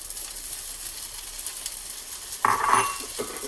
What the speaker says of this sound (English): our next step in this process is that we are going to add in our mushrooms